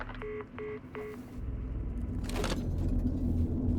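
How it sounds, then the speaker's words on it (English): Three quick, evenly spaced telephone keypad beeps ring out in the video game Alan Wake 2, then a low rumbling hum takes over. "That dial tone, it sounds just like Mr. Worldwide by Pitbull."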